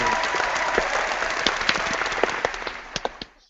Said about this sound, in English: Let's give a big round of applause for International Incident